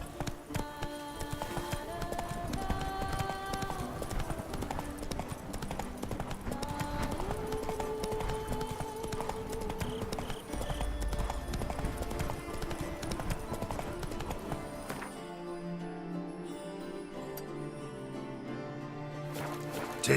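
Roach, the horse in The Witcher 3: Wild Hunt, gallops with steady, rapid clip-clop hoofbeats under dense game music, fairly loud throughout, the music thinning near the end.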